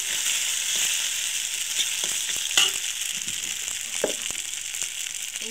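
Eggs and onions fry and get stirred in a pan, a steady close sizzle broken by a few scraping stirs, with no talking.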